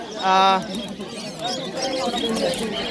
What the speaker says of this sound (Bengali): জিরো ঠোঁটের পায়রা রয়েছে।